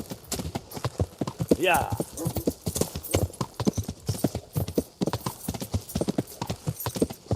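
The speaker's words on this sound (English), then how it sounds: "There's no way this guy's chasing me on his horse." Horse hooves clip-clop steadily in an open-world video game, a fast, close, rhythmic beat that continues throughout, with a brief whinny early on and someone talking over it.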